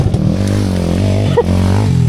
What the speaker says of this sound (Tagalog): Patay na ibot atong tambutso.